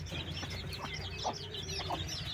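Several hens with chicks cluck softly and intermittently while pecking at feed on a family pigeon farm, a few sharper clucks standing out over a steady low farmyard background.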